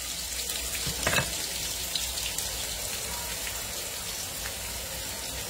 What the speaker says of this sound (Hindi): मैं हरी मिर्च डाल दे रही हूँ, और ये प्याज डाल देती हूँ।